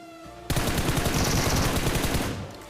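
M16 automatic fire in PUBG Mobile, a loud, rapid continuous burst of about two seconds that begins suddenly and fades at the end.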